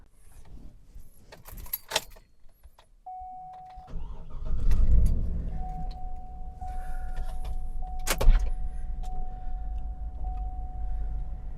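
A 2011 Cadillac Escalade with new sway bar end links: key jingle and door clatter, then the engine starts and settles into a steady idle hum with a faint whine as the SUV pulls off, one sharp knock partway through.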